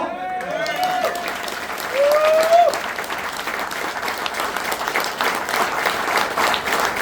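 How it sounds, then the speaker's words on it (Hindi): Audience clapping at a business training session, a continuous burst of applause lasting throughout, with a voice speaking and a short whistle-like tone over it early on. "ताली बजा लो।"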